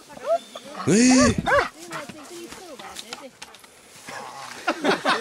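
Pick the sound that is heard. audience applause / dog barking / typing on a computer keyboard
dog barking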